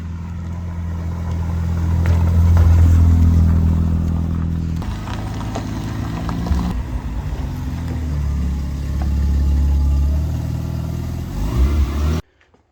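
A 1994 Mazda RX7 FD twin-turbo rotary being driven, its engine droning and swelling through steady acceleration with shifts, loud and close, then cutting off abruptly at the end.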